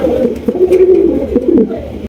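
Fancy pigeons kept for sale coo close by, a low, continuous rolling coo lasting about two seconds that fills the space and then stops abruptly.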